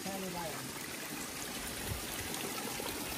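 Water flows steadily at a rural spring with wells, a constant rushing trickle close by, with a voice briefly heard at the start.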